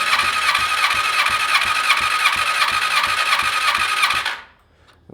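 A BMW S1000RR sport-bike engine cranks on the starter with the throttle held open during a compression test, a fast, even chug of pulses that runs loud and steady for four seconds, then stops without firing.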